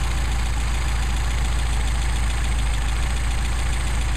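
A Mercedes 190SL engine with Solex carburetors idles steadily and close. The low rhythmic rumble is even and constant, with no voices over it.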